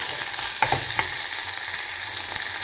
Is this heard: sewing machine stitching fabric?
no